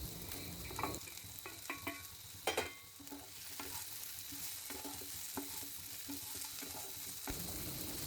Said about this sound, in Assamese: এতিয়া ইয়াত ফ্ৰাই কৰি থোৱা মাছৰুমখিনি দি দিম